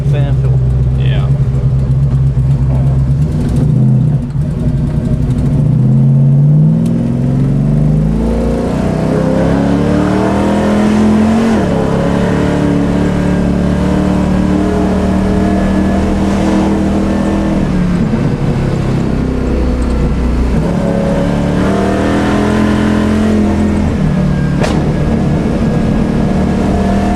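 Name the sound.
NRE 610 HP 1970 Chevelle engine revving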